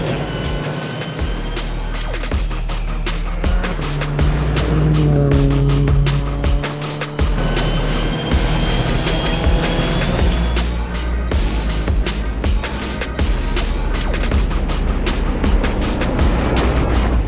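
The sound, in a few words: car engine during a fast ride with Travis Pastrana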